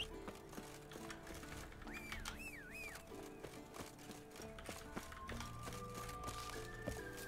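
Horse hooves clip-clop in The Witcher 3: The Wild Hunt Next Gen, a steady rhythmic trot running through busy game music and sound effects at moderate loudness.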